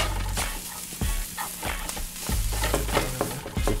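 Green cabbage fries in a hot pan, crackling and sizzling loudly while a utensil stirs and scrapes it in quick, repeated strokes close by.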